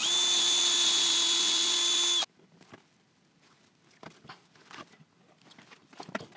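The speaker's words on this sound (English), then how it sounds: "A small 6mm dowel, pre-drilled some holes." A power drill pre-drilling holes in wood for a small 6 mm dowel on a garden obelisk trellis: a loud, steady whine for about two seconds stops abruptly, followed by faint scattered taps and handling knocks.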